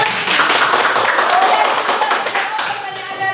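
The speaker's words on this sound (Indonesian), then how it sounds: "Ya, tepuk tangan untuk Rindia." A high-school class claps for a student during an Islamic jurisprudence lesson, a dense, close, steady patter of hands lasting a few seconds, with talk mixed in.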